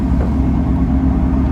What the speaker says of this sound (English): The bus is working fine. We have all gears and it's running really smooth.